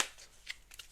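Oracle cards ruffle briefly in a quick shuffle, a few soft close riffles that are quiet and isolated, with no talking.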